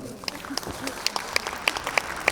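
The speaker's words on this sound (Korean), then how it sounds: "다시 한번 힘찬 박수 부탁드립니다." Applause from the audience at a Lions Clubs International district service pledge ceremony in Gyeongnam, a short burst of scattered, crisp claps building over a couple of seconds with a voice heard underneath.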